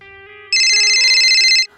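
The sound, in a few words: telephone ringing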